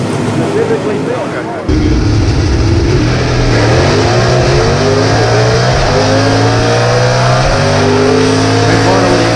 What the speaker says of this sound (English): Rick Corner with the advantage over starting line. He takes it through to the win.